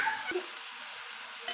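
Ridge gourd and ginger sizzle faintly in a pan while being stirred, with one quick scrape of the spoon over a low, steady hiss.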